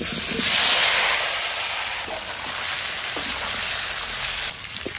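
Panch phoron, bay leaf and dried red chilies hitting hot oil for a Bengali vegetable ghyat, a loud steady hiss of sizzling that stays bright and continuous with a slight surge at the start.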